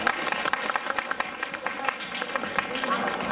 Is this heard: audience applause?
yes